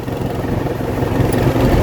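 A car engine idles during a clutch installation, a low, steady mechanical rumble with a slight rise toward the end, close by and with no talking over it.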